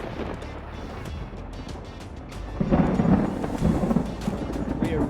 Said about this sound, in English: We're right on the edge of this storm